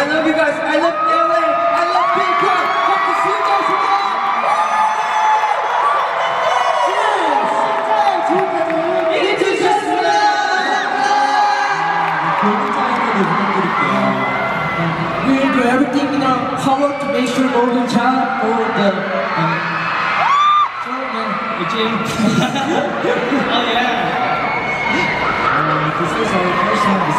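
A packed concert crowd at KCON 2018 in Los Angeles cheers, screams and roars without a break for almost half a minute, loud and continuous, while a voice carries over the top.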